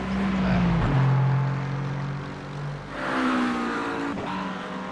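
Aston Martin race car nicknamed the lawnmower, driven in a racing video game, its engine droning and revving loudly, with pitch rising and falling through gear changes and steady tonal harmonics over several seconds, with no talk.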